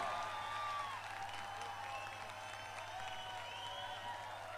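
Audience applause welcoming comedian Johnny Lever on stage at a gospel testimony event, a steady crowd clapping wash with some cheering, moderately distant and continuous throughout.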